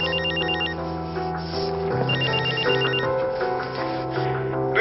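A telephone rings loudly and steadily, its electronic bell tone repeating in two bursts over a sustained musical ringtone backdrop, with no talking.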